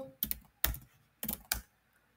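Four quick bursts of keystrokes as a command is typed on a computer keyboard, close and crisp with short pauses between them in a quiet room.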